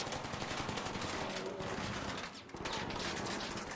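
Sustained automatic gunfire from a shootout against a shielded enemy in the video game Arc Raiders, dense rapid bursts running nearly continuously, with a brief lull midway before firing resumes, loud and without talk.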